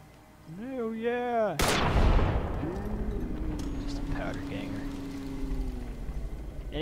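A single loud, booming gunshot in the modded hardcore Fallout: New Vegas game near Nipton, with a long rumbling decay, preceded by a brief rising tone, with a person talking underneath.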